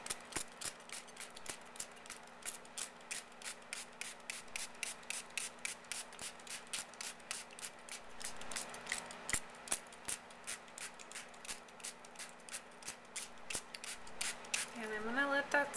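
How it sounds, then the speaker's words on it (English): A handheld spray bottle spritzes water onto a newsprint image transfer, with many short, crisp hissing pumps in a steady rhythm, close and fairly quiet. "now I'm just gonna spray some water"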